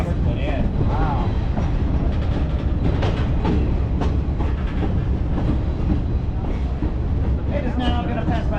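A train on the Leadville & Colorado Southern Railroad rumbles past steadily at close range, a loud continuous roar of wheels on rails with occasional squeals and clanks throughout.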